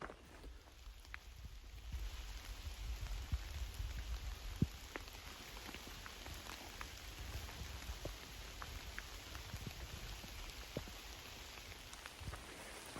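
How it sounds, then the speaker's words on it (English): Rain falling steadily in the woods along the Appalachian Trail, a soft constant patter of drops on surfaces with scattered louder plinks, fairly quiet and with no talking. "with the sound of the rain"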